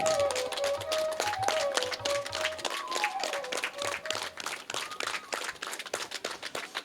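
An audience at a Bhimakhanda Shaiva temple meditation yajna breaks into sustained applause, many hands clapping densely for several seconds, with a bright melodic tone running beneath at the start.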